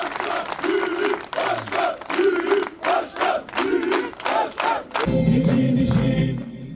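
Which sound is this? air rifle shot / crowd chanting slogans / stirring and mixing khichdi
crowd chanting slogans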